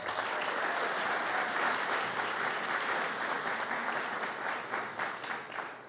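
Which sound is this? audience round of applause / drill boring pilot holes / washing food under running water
audience round of applause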